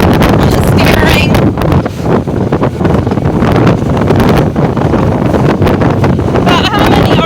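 A 2024 Bass Tracker XL boat with a 50HP Mercury outboard runs near 4,000 RPM in open water, a loud continuous engine drone buffeted by heavy wind noise and splashing hull, with talk mixed in.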